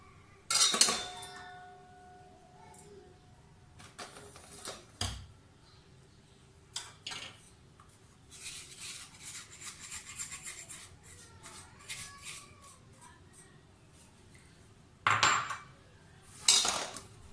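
Creamed ghee being mixed with icing sugar in a bowl for a tea cake: repeated scraping and rubbing of a spoon against the bowl, with sharper metallic clanks now and then, close and fairly loud, no voices.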